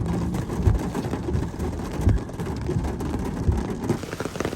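Heavy rain pours down in a steady, dense hiss, with a few duller thuds of drops striking a surface close by.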